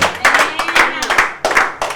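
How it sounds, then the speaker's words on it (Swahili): A church congregation claps loudly and rhythmically in quick bursts during a sermon, with voices mixed in among the claps. "Tupige makofi kwa ajili ya Bwana Yesu Kristo"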